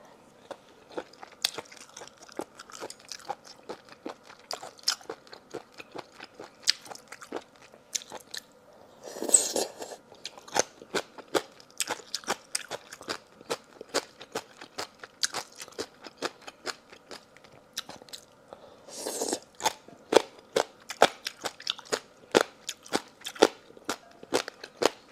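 Crunchy chewing of marinated gongcai (celtuce stems) and spoon worms in a seafood feast, steady crisp bites and crackling close to the mic with no talking, plus two louder bursts partway through.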